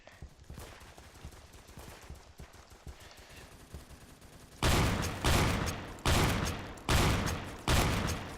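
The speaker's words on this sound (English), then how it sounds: "I was being shot from the front and back." Gunfire rings out in the shooter game Phantom Forces, with a low rattle of distant shots giving way to five loud, evenly spaced blasts from a Remington shotgun loaded with bird shot, each ending in a short ringing tail.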